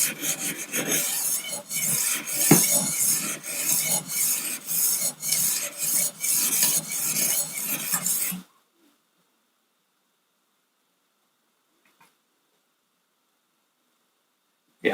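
A knife edge is honed on a 1000 grit stone on a Wicked Edge Go sharpener, with steady close rasping strokes in quick rhythm for about eight seconds, then near silence with a faint tap.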